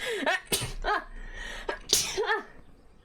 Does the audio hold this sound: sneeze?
yes